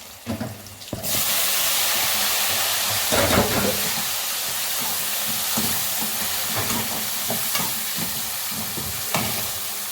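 Chopped tomatoes hit hot oil with sautéed curry leaves for a fenugreek curry, setting off a sudden loud, steady sizzle, with occasional scrapes and stirring clatter over it.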